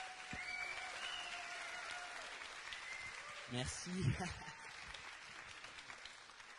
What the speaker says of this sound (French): je pense que vous pouvez les réapplaudir tous les deux.